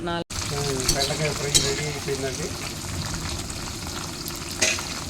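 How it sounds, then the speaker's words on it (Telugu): Okra pakodi deep-fry in hot oil with a loud, dense, continuous bubbling sizzle, a voice speaking over the first half and occasional clinks of a utensil. "బెండకాయ ఫ్రై అయ్యిందండి చూడండి ఎంత క్రిస్పీగా ఎంత బాగా వచ్చిందో పకోడీ"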